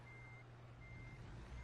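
A truck backs up in American Truck Simulator, its reversing beeper giving two long steady tones over a low engine drone.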